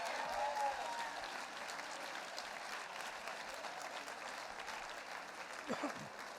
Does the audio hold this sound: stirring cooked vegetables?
no